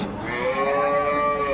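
A cow at a livestock market in Dinajpur lets out one long, close mooing call that holds steady for its full length.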